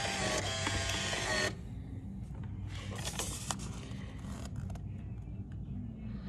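Security system printer prints a report, a loud close mechanical rattling buzz for about a second and a half. Quieter intermittent clicks and shuffling handling noises follow.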